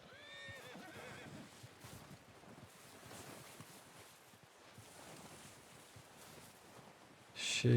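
Horse in Red Dead Redemption 2 whinnies loudly after a whistle call, followed by faint hoofbeats and wind under the game's ambient outdoor sound.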